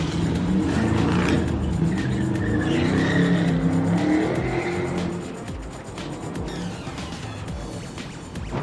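A blue Dodge Charger drifting across the road, its tires skidding and squealing with a loud, sustained engine roar that eases slightly toward the end, no voices present.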